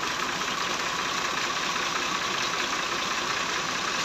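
A Massey Ferguson 240 tractor engine runs steadily, driving a water pump that drains rainwater from flooded farmland in Punjab, Pakistan; a loud, unbroken, close drone with no pauses.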